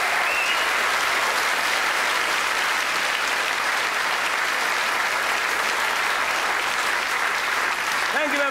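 Sustained applause from a live comedy-show audience fills the stretch, dense and steady throughout with no pause, a faint vocal sound rising near the end.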